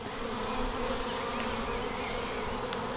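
Honeybees buzzing around an open hive during an inspection, a continuous close drone of many wings, steady and even throughout.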